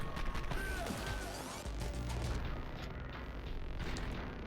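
Loud booming gunfire from a shotgun in the video game Katana Zero, with dense crashing blasts and mechanical clatter filling the whole stretch with little pause.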